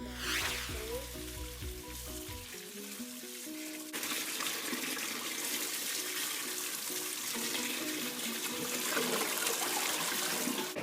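A tap runs steadily while green chillies are rinsed under it, a broad hissing wash of water with background music playing throughout.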